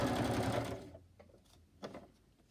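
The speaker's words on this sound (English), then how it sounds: "Okay, and then I'll stitch around this one." A sewing machine stitching around tags made from old book pages gives a brief loud whir, then falls to a few faint clicks and short mechanical bursts, heard close with no talking.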